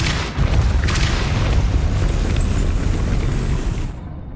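In Hogwarts Legacy, the Depulso spell lands as a loud, sustained rumbling boom that rolls on for several seconds before cutting off.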